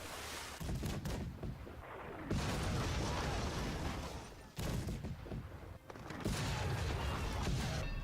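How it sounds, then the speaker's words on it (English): Napoleonic naval battle cannon fire in the video game Victory and Glory Napoleon, repeated heavy booming shots and crackling volleys in irregular bursts, several distinct blasts over a continuous rumble. "All our shots just seem to land in the water."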